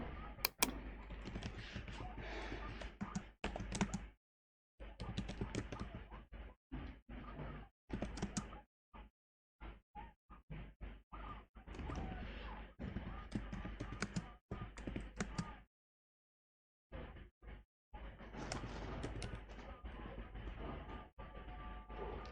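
Typing on a computer keyboard produces fast, close clicking in bursts of varying length, separated by short silent pauses, with no voices.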